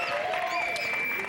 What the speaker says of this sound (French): On applaudit Alex Dixon